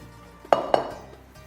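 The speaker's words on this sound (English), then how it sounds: "I'm just going to grab a bowl" Two sharp, close clinks of a bowl being picked up and set down in a home kitchen while Greek koulourakia biscuit dough is being kneaded, spaced about a quarter second apart in an otherwise quiet room.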